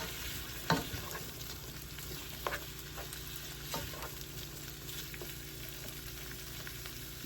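Chopped onion and black pepper sauté in a pan, giving a soft, continuous sizzle with occasional clacks from stirring near the start.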